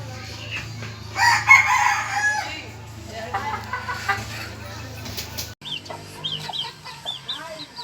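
A scaleless-breed rooster crows loudly and close by in a backyard chicken coop, one long call standing out over a steady low hum, followed by softer clucks and chirps from hens.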